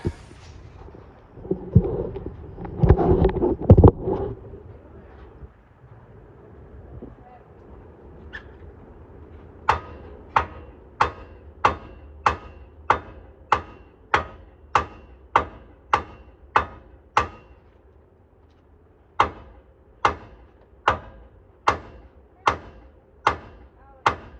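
A hammer pounds on a Chevy Silverado truck's upper A-arm to pop the ball joint loose under tension, landing a long steady series of sharp metallic strikes, with a short pause partway through and some clatter and talk before them.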